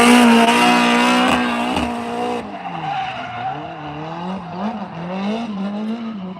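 Car number 16 drifts at Ebisu Circuit with a loud, sustained tire squeal whose pitch wavers and slides as the engine note rises and falls, close at first and then fading slightly.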